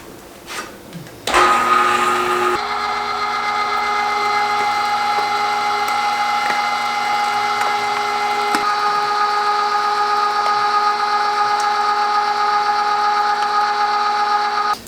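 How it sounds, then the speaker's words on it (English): Electric meat grinder running venison through a fine grind plate, a loud steady motor whine that starts abruptly after a brief clunk and holds continuously, close by, with faint scraping. "So I have the fine grind plate on the grinder now, and I'm going to run this all through the fine grind"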